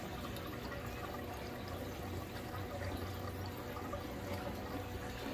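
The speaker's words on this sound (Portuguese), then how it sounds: "A água já começou a passar para cá." Water runs steadily through the overflow plumbing of a 250-litre aquarium, fed by a pump on a low setting, giving a continuous close trickling wash with no voices.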